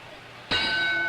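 A single loud clang from a boxing ring bell opens a round at a heavyweight fight, then rings on in a sustained metallic tone over low crowd noise.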